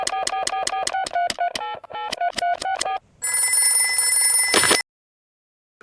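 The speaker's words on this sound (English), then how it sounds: "I'll ring Dr. Brown Bear" Telephone rings in short repeated electronic bursts in a cartoon, followed by a brighter, harsher ringing tone that cuts off abruptly into silence; no talking.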